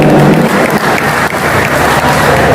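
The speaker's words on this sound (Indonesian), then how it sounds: "Tepuk tangan dulu buat pemuda kota bersatu." Loud, dense applause from a crowd at a Batak youth organization's national working meeting with entertainment, continuous clapping throughout with a brief dip midway.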